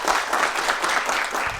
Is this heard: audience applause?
yes